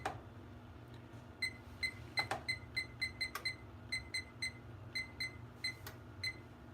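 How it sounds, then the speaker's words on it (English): An oven's digital timer being set, giving a run of short, bright electronic beeps in quick irregular succession, each button press a separate chirp over a quiet kitchen hum, fairly close and clear. "we're going to set our timer"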